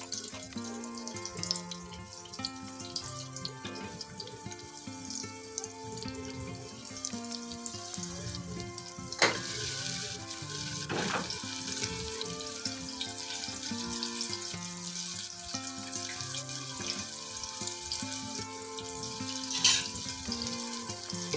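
A bowl of chopped onion frying in a pan for spinach khichdi, with a long, steady sizzle and a few sharp clinks and ticks scattered through it.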